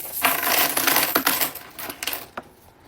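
Coins clatter and jingle as they tumble out of a bag, a dense run of metallic chinks that thins into a few scattered drops toward the end, close and fairly loud with no talking.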